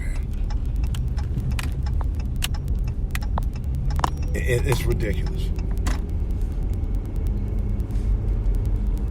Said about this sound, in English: It's traffic, man.